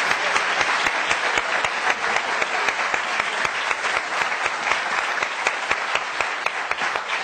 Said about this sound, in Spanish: démosle un aplauso no solo a estos candidatos, sino también a la democracia de Bogotá